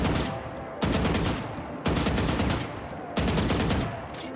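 Hip-fire gunshots in the Valorant video game ring out in four sustained automatic bursts, each a rapid crackling string of shots separated by brief pauses, loud and close with no talking.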